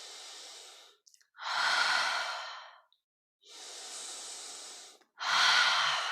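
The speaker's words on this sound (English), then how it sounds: "You're no more thinking, only breathing. Inhale, exhale." Slow, deep breathing during a guided breathwork meditation: long airy inhales and exhales alternating in a steady rhythm, close and fairly loud, with short pauses between them and no talking.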